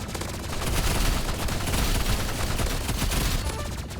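Continuous rapid gunfire from a weapon in the Roblox Rivals video game, a dense unbroken stream of loud shots lasting the whole stretch, with no talking.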